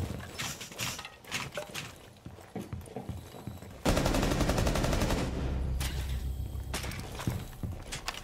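Rainbow Six Siege gunfire, scattered single shots at first, then a dense loud burst of rapid automatic fire lasting several seconds, with footsteps and clatter around it.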